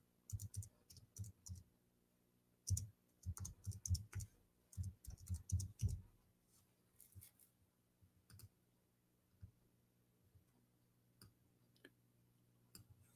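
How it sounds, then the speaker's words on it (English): Keys on a computer keyboard clatter in quick bursts of close, crisp clicks, busy at first, then thinning to a few scattered taps in a quiet room. "I'm typing in English."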